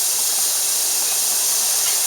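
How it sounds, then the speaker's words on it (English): Chopped fresh garlic and onions sizzling in a pan of hot olive oil, a steady bright hiss held without a break for a couple of seconds, close and loud with no talking. "I've got a pan heated up with some olive oil, and I'm going to take chopped fresh garlic and onions, and I'm just going to throw that all in there"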